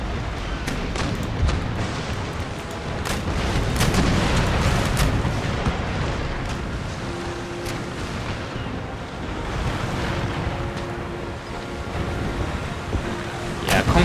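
Warship cannon broadsides boom repeatedly in a naval battle in Empire: Total War, a dense, continuous rumble of gunfire with wind and sea noise, heavy and loud throughout.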